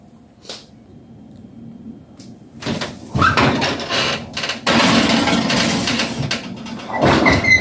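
An oven door opens with a clank and later shuts as a loaf of soda bread goes into a 450-degree oven. Metal rattles, clatters and rustles close by in a burst of kitchen handling noise, and there is no speech.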